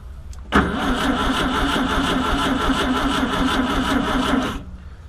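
A starter motor cranks the engine of a 1966 Karmann Ghia, parked since 1984, with 12 volts fed through its 6 volt starter; a steady, loud, rapid churning runs for about four seconds, then cuts off.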